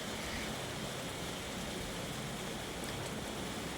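Steady, dense rain hisses continuously without a break, a broad even wash of sound.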